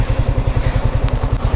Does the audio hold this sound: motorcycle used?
yes